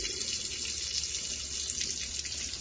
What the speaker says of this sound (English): we will turn on the sink and get all the water drained from it.